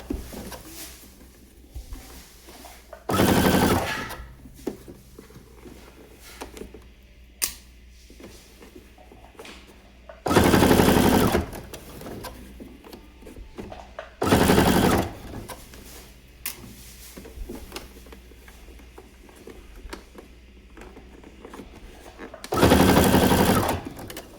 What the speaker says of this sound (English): I'm just gonna go ahead and baste as close as possible all the way across.